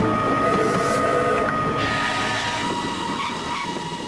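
Steam train approaching a stretch of track under repair, a loud continuous rumbling roar with rattling metallic clatter, steady and close throughout.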